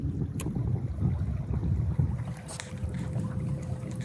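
Low, steady rumble of a boat gliding through water at about 2 miles an hour under a Newport Vessels electric trolling motor, with a soft motor hum and wind buffeting, fairly quiet overall.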